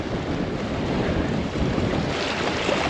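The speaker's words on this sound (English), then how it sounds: "It's so windy here and it's so cold because the wind's coming straight from the north." Strong, cold north wind buffets the microphone outdoors by an old slipway on the Scottish isle of Staffa, a constant low roar with a faint wash of water in the background.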